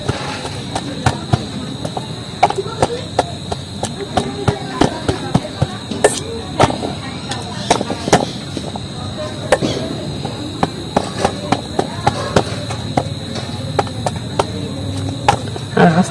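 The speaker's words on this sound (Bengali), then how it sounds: "শালগুলো একটু শক্ত হয় তার জন্য নোড়া নিয়েছি আর এইভাবে এইভাবে মেরে মেরে" Hard water lily roots are pounded with a grinding stone, giving sharp, repeated knocks at an irregular, steady pace under continuous talk.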